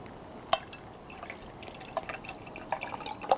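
Filtered iron sulfate solution poured into a small cup, faint trickling with scattered sharp drips and splashes, quiet and close with no talking.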